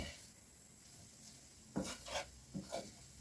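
Cabbage stirred in a pan while stewing, a soft background sizzle with a few distinct scraping stirs of a utensil toward the end, close and fairly quiet.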